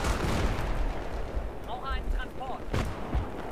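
Battlefield 3 multiplayer gunfire on Strike at Karkand, heavy booming shots and explosions over a dense rumble of battle noise, with some faint voice chatter in the mix.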